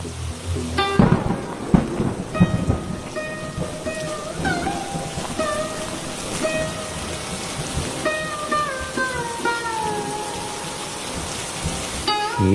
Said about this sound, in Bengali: বৃষ্টি হচ্ছে এমনি